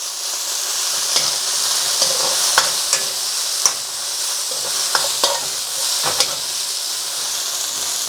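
Noodles are stir-fried in a hot wok, making a steady loud sizzle and hiss with intermittent scraping and clanking of the utensil against the metal, with no voices.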